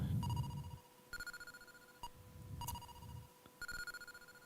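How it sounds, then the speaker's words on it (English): A phone alarm rings in repeated bursts of bright electronic tones, recurring roughly every second, fairly quiet, with a low murmur between rings. "So my phone is going off again."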